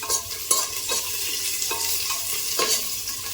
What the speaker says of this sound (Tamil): ஒரு பெரிய வெங்காயம், ஒரு பச்சை மிளகா, கொஞ்சம் கருவேப்பிலை, இது மூணையும் சேர்த்து நல்லா வந்து வதக்கி விட்டுடலாம்